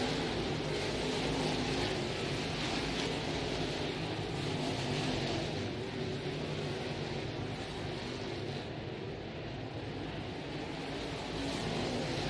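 Crate race cars roar past on the front straightaway at East Bay Raceway, a continuous distant engine drone rising and falling across the track.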